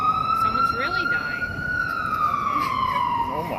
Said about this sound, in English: Wow, ambulance too.